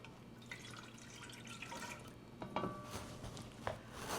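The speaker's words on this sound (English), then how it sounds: "So I'm adding first the 280 grams of warm water." Warm water pours and drips into a stand mixer bowl as the first liquid ingredient for sourdough bread dough, a quiet, uneven trickle with a few sharper splashes near the end.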